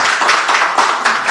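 Audience applause at a youth ambassador award ceremony, a steady dense wash of many hands clapping, loud and continuous throughout with no voices.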